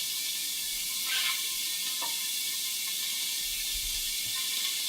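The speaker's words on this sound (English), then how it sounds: "So the beef is ready, and Alyssa is going to add the other ingredients to the stir fry." Beef stir fry sizzles in a hot pan as other ingredients go in: a steady, close, bright hiss with a few faint clinks and soft stirring bumps.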